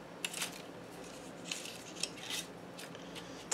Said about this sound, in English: I'm just going to stick this on my cutting pad and cut in between here.